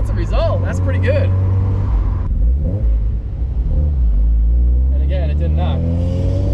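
A car fitted with a Raceland header revs at a stop, its engine rising and falling in loud, throaty pulls over a deep rumble while someone talks over it.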